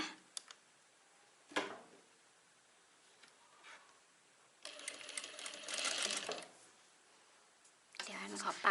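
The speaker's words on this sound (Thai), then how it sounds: "ตีเกตเข้าไปค่ะ ประมาณ 1 ตีนผี แบบนี้นะคะ" A sewing machine stitches a dart into a trouser waist in two short, faint bursts, heard alongside soft handling clicks and someone speaking quietly nearby.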